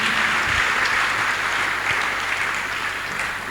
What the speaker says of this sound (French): Acclamons grandement pour Jésus-Christ ce matin.